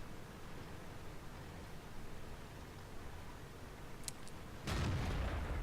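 A tank cannon fires in a World of Tanks-style game with a Nashorn tank destroyer, a single sharp, loud boom with rumbling tail cutting in near the end over steady background game noise.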